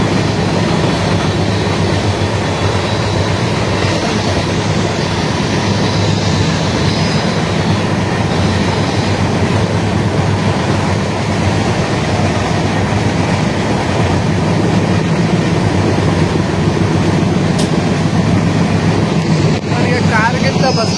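A passenger train travels along the rails with a loud, steady rumble and rolling rail noise that holds unbroken for the full twenty seconds.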